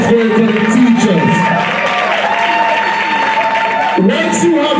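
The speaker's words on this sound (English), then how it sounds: "Keep the applause going for the teachers." Audience applause with cheering and shouts from a crowd, including children, honoring teachers at a school event, loud and sustained throughout with voices calling out over the clapping.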